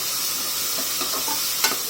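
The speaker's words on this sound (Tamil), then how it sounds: "நல்லா இந்த ரா ஸ்மெல் போகிற வரைக்கும் நல்லா ஃப்ரை பண்ணி எடுக்கணும்." Ginger garlic paste stirred and fried in a hot pan, a steady close sizzle with a few soft scraping stirs and one sharp clink near the end.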